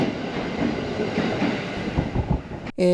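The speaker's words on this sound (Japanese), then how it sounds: "こちら乗ってきた電車は、銚子駅まで行く電車なので、銚子に向けて出発していきました" A train departing Matsugishi station toward Choshi, a steady rumble of wheels and carriages close by with rhythmic clatter, cut off abruptly near the end.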